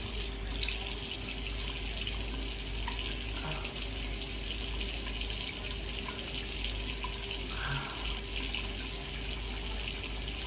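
Water runs steadily from a tap, a constant hissing splash with no pauses, fairly close and loud throughout.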